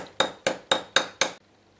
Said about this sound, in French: À l'aide d'un tournevis et d'un petit marteau, puisque ça a été recuit, je vais pouvoir le raplatir jusqu'à peu près 2 mm